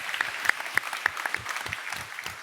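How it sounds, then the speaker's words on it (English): Applause from the audience at an international workplace conference plenary session, heard as a steady, evenly spaced run of claps filling the whole stretch. "That feels like a really, yeah, worth a round of applause."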